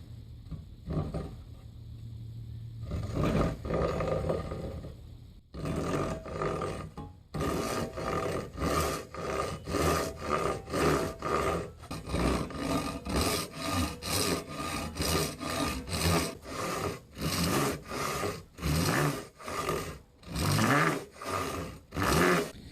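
A sharpened rip-cut hand saw establishes a slow, precise kerf in a wooden board for hand resawing, starting with a few tentative strokes, then settling into a steady, close, rhythmic rasp of push-and-pull strokes.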